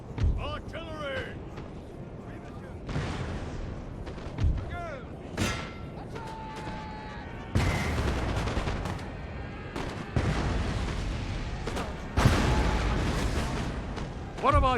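Napoleon: Total War artillery: cannons boom in loud scattered blasts amid crackling musket fire and a busy battlefield din, with voice chatter and callouts mixed in.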